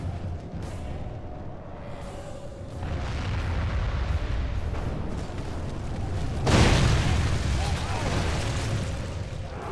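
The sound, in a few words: catapults firing in Battles of the English video game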